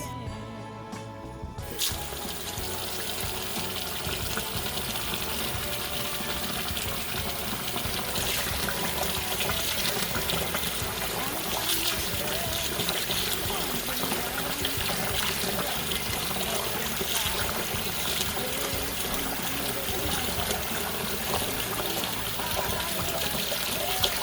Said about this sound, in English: So now we can wash our rice.